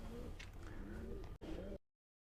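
Racing pigeons coo faintly in a loft, low murmuring calls repeating over a steady background hum, then cutting off abruptly into silence.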